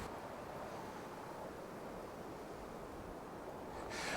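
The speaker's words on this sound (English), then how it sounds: "this wind is keeping me from parking here" Steady, loud wind roars through a winter campsite beside Lake Superior, a continuous broadband rush with no break across the clip and a brief stronger gust near the end; no one speaks.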